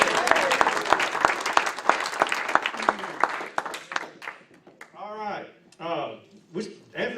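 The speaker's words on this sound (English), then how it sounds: "Let's give them a big round of applause" Loud audience applause with dense clapping fills the first few seconds, then fades as a voice begins speaking over the last scattered claps.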